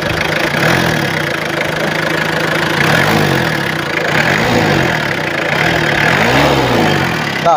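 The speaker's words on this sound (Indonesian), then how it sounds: "Coba kita sedikit naikkan RPM-nya" The diesel engine of a 1999 Mitsubishi Kuda GLS rumbles close and loud, its revs rising and falling in several gentle swells over a steady idle.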